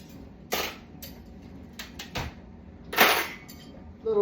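Silverware clinks and rattles in a few separate bursts as a dishwasher is unloaded into kitchen drawers and cupboards, close and moderately loud with quiet gaps between.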